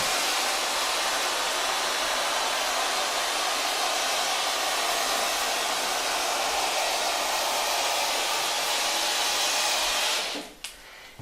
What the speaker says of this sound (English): we're going to start our steamer